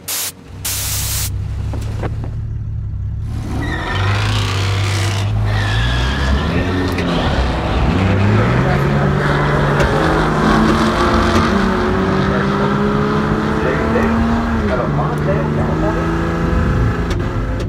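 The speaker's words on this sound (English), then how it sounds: "I brought out my 1972 AMC Hornet Sportabout, known as the Green Hornet, powered by a direct port injected inline 6" A 1972 AMC Hornet Sportabout with a direct port injected inline-6 on nitrous roars loudly at a drag race against a Saleen Mustang, its engine note climbing repeatedly in pitch as it pulls through the gears after a brief idle.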